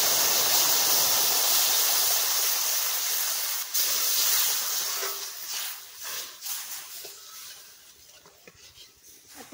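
Hot milk is poured into semolina that has been frying in a pan, and a loud, broad hiss of steam and sizzling starts at once. It slowly dies down into softer bubbling over several seconds.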